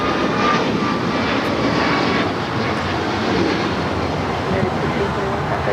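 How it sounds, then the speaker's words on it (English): A United Airlines Boeing 737 MAX 8 departing for Orlando, a continuous loud jet roar with a dense low rumble and airy hiss, holding steady throughout. "That flight heading to Orlando, Florida. United Airlines flight 1621 at 737 MAX 8."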